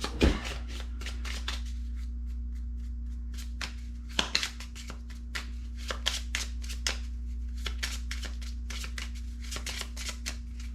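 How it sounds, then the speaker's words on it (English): Game cards shuffled by hand at a tabletop, a loud riffle up front, then a long run of crisp, rapid card flicks and slaps in uneven bursts over a steady low hum. "Shuffle these up."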